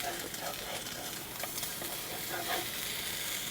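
An omelette sizzles in a frying pan, a steady close hiss with faint crackles and a few soft scrapes, no talk over it.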